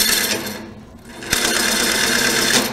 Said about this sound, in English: I think you can tell from the shavings flying out, it's cutting.